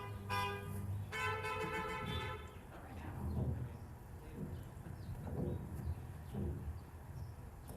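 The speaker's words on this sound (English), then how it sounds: "Clap, honk your horns, shout." Car horns from a parked congregation at an outdoor Mother's Day church service toot a few times, fairly faint and distant, then give way to a low background murmur.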